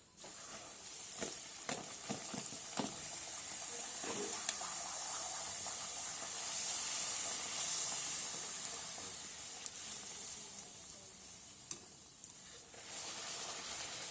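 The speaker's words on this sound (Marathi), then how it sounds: "हे पहा अशा प्रकारे आपल्याला पुऱ्या भाजून घ्यायच्या आहेत" Puris frying and puffing in hot oil for a potato rassa bhaji meal, a steady close sizzle and hiss running throughout with occasional soft pops and clicks, no voices.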